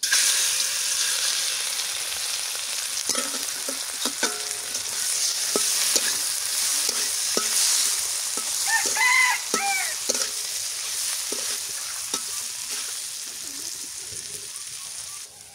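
Fish fries in a pan in a village kitchen, a close, steady sizzle and crackle lasting the whole stretch, with faint clinks and brief background chatter partway through.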